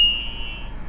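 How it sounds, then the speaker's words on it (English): A steady high-pitched electronic buzz from a dashboard shore-power-loss alarm sounds continuously, loud and close, holding one tone for the whole moment. "it's an alarm to tell us we've lost shore power"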